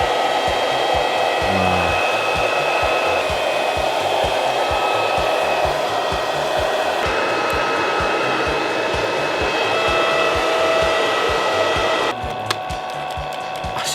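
A handheld hair dryer blows steadily and loudly for about twelve seconds, drying hair set in heatless curls under a hood-style cap, then cuts off near the end; a brief exclamation is spoken over it.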